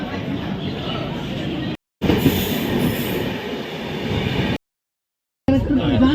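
The Howrah–Puri Shatabdi Express running near Balasore, a steady loud rumble of wheels on rails with faint squealing, heard from inside a chair car and broken by two brief cuts.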